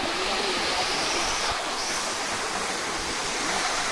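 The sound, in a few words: waterfall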